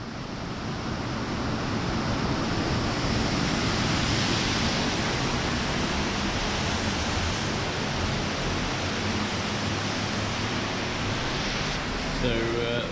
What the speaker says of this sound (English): So the falls are pretty spectacular